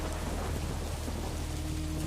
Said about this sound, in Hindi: बिजली कड़क रही थी।